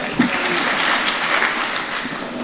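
Audience at a mushaira applauding, a dense, steady wash of clapping from many hands that carries on without a break.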